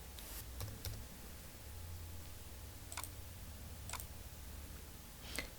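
Sparse, quiet keystrokes on a computer keyboard while entering text in a graphic design program, a handful of isolated clicks spaced about a second apart over a faint steady hiss.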